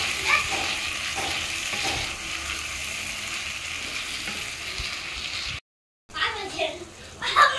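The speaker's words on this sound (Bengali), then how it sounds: "চর্বিটা দিয়ে একটু ভেজে নিচ্ছি" Mutton fat fries with tomatoes in a pan, giving a steady close sizzle with stirring clatter, cut by a brief silent gap before the sizzle and scraping resume.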